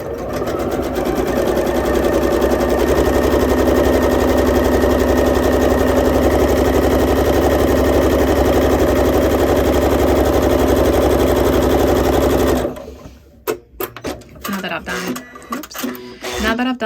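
Sewing machine stitching quilt fabric for half square triangles with a 1/4-inch foot, a loud, steady, rapid mechanical whirring hum that runs unbroken for about twelve seconds, then stops abruptly into quieter handling noises.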